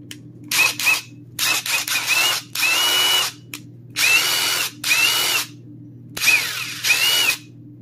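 A Dewalt cordless power tool whirs in a series of short, loud bursts, triggered on and off about eight times with brief pauses between, against a steady low hum.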